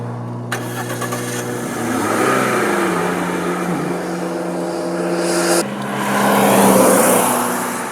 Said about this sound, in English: we are jumping on our rented Lada Niva, a car which is just the right pick for Armenia's bumpy roads